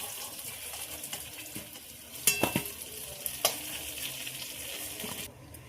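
Vegetables sizzle and fry in hot oil, with a couple of sharp scraping clanks as they are stirred in the pan.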